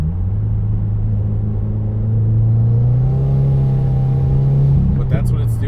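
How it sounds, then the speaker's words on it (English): Hard acceleration from a 2017 Subaru WRX in third gear, its engine drone rising steadily as the throttle is nearly floored, loud and sustained from inside the car, ending with a brief clunk. "That was me trying to almost floor it to accelerate up to speed."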